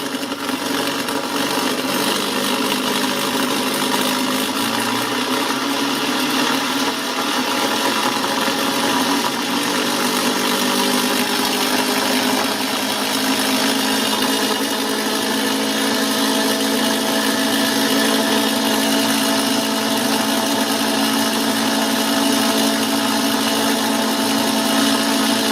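A Kromrey shorted-coil generator spins steadily, its motor-like whir held at a constant loud level with a sustained tone that rises slightly in pitch as the machine is sped up.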